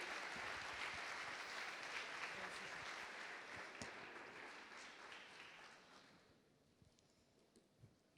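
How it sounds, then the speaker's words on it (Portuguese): An audience at a church service applauds a speaker being welcomed, a dense wash of clapping that holds steady and then fades away toward the end. "Recebemos com um forte aplauso al apóstol Alberto."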